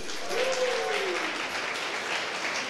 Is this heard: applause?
yes